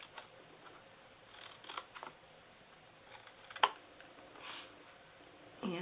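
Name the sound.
cutting scored paper pieces for handmade gift basket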